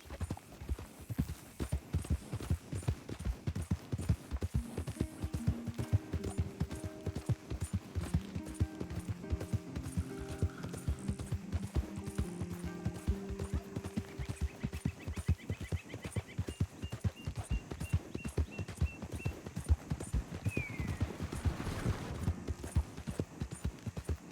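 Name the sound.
horse galloping in video game Red Dead Redemption 2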